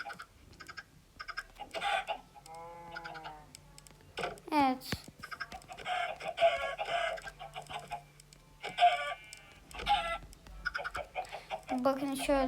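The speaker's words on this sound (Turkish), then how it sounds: "tavuk ordusu oğlum bunlar" Chickens in the video game Minecraft cluck and squawk in short bursts while a person talks over them, with a few keyboard-like clicks mixed in.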